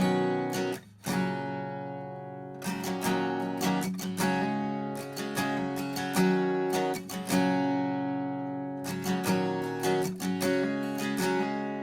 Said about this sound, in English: I went ahead and moved on to the acoustic guitar